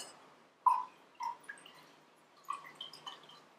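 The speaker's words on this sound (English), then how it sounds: "how much water is in the glass after I pour a bit more in" Water trickles and drips into a drinking glass in short, separate splashes and gurgles, faint and close, with no voices.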